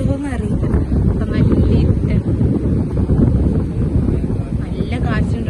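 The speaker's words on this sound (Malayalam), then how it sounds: "നല്ല കാറ്റുണ്ട്." Strong wind roars and buffets the microphone at Thooval Theeram beach at night, a loud, steady rumble running through the whole stretch, with people talking over it.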